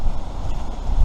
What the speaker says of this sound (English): I'll just dip down because it is quite windy.